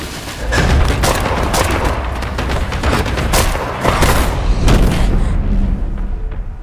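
Bomb blasts and rapid gunfire from a battle scene in the Alice in Borderland series, dense booming thuds and crackling shots that go on without a break, loud and chaotic.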